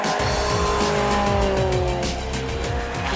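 A Honda Civic Type R running on LPG autogas is driven hard and close. The engine revs rise and fall through gear changes, and tyres squeal loudly and continuously.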